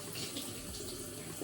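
Water running in a sister's shower, a steady broadband hiss of spray that stays even throughout, heard from nearby without talk.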